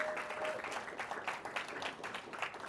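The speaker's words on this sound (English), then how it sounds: "Let's give all of our teams a round of applause." A crowd at a high school Battle of the Books competition gives the teams a round of applause, quiet and somewhat distant, scattered clapping running steadily throughout.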